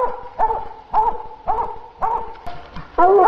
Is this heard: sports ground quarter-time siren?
no